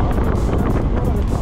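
Wind buffets the microphone on a dual-motor electric scooter running in dual mode, a loud steady rush with low rumble throughout.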